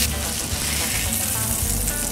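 A kangaroo meat hamburger patty fries in a pan with a dense, steady sizzle that crackles close up and never lets up.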